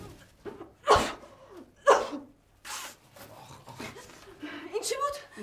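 Two sharp sneezes about a second apart, close and loud, followed by people talking and chuckling in a comedy scene.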